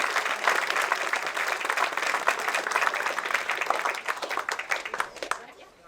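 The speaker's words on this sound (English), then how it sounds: "So a big round of applause." Loud, dense applause from a crowd gathered around a sculpture, with close individual claps standing out before tapering off at the end, and voices talking underneath.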